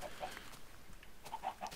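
Blocky chickens in a Minecraft farm pen clucking softly in short, scattered bursts, faint and distant, with no one talking.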